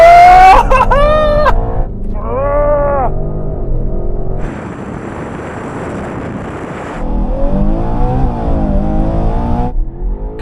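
Several SUVs including a BMW accelerate hard off the line in a drag race, loud engines revving up through gear changes, with shifts between rising roars and a sustained rush.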